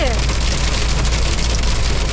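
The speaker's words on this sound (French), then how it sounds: "Ah ouais, mais il grêle, j'en étais sûre que c'est abusé." Hail hammers loudly and densely on the roof of a van during a sudden cold storm, a constant close rattling roar that fills the whole moment.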